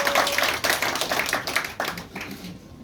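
A church congregation clapping hands together during a service; quick, rhythmic claps in bursts, fairly close, fading toward the end.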